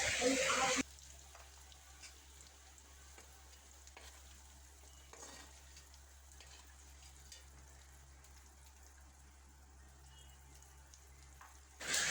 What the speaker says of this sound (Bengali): তারপর আলুগুলো লাল লাল করে ভাজা হয়ে গেলে তুলে নেওয়া হচ্ছে।